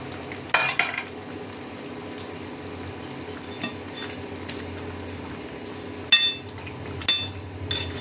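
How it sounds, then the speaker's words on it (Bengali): A pot of fish curry with potato and eggplant simmers with a soft, steady bubbling hiss, broken by occasional sharp clinks of a metal utensil against the pot. "এই যে ওপর দিয়ে মাছ ফুটছে"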